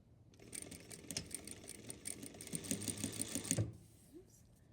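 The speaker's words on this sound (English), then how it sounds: "I'm going to backstitch." Home sewing machine stitching a bound Hong Kong seam, whirring steadily for a few seconds with a brief backstitch, then stopping as a faint voice remarks.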